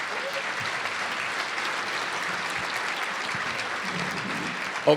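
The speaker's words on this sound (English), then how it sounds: "Let us give all of our sponsors a round of applause." Sustained applause from a sizable audience, even and continuous, ending with a brief louder knock or thump.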